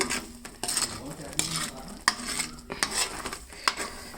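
Kalakand sweet mixture is stirred in an iron kadai, the spoon scraping and clinking against the metal in uneven strokes over a soft sizzle, close and clear with no talking.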